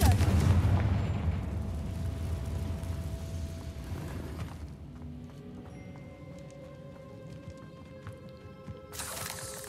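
A Confringo blasting spell detonates in the Hogwarts Legacy video game, a loud booming burst with rumbling low end that decays into a lingering hum and ambient tones, with a brighter flare returning right at the end.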